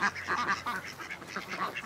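Ducks on a farm, including a mallard and a pied Indian Runner, quack in a quick, close run of calls that overlap and continue for about two seconds, with no voices.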